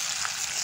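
Dried chillies and bay leaves fry in hot oil, a soft, brief and even hiss of sizzling with no voices over it.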